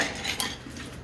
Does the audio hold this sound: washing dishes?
yes